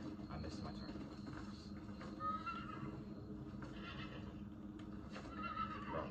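A horse neighs twice in a video game over game-like ambient noise with hoof clip-clops, faint and somewhat distant, while a person talks in the background.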